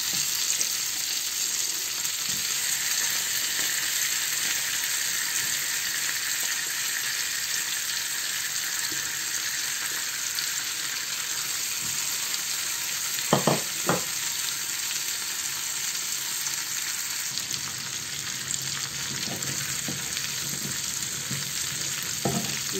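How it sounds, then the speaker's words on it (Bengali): Chicken sizzles and fries steadily in butter in a pan for Arabian chicken kabsa, a loud, continuous crackling hiss close by, with a few clinks of stirring partway through and no talk. "এখন আমি একই প্যানে চিকেনটাকে ভেজে নেব।"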